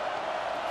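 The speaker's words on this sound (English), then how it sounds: "Decibels rising as the crowd gets behind this defense on 3rd down." Steady, loud roar of a stadium crowd on a 3rd down defensive stand in the College Football 25 video game, a brief continuous wash of noise.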